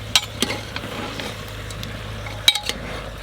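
Meat dropped into hot ghee with cardamom, giving a soft sizzle with sharp clinks of a utensil against the pan, a couple of distinct knocks spaced out over a quiet frying bed.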